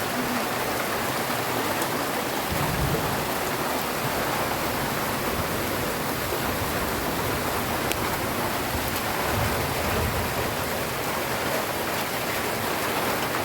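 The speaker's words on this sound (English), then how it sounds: "The rain is falling." Steady rain falls near a bee apiary, a dense, continuous hiss of drops on surfaces that stays even and close throughout, with no voices.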